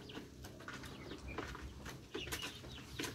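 Rhode Island and native cross chickens cluck and chatter in a backyard coop, several birds calling over one another in a steady, close farmyard murmur with no talk.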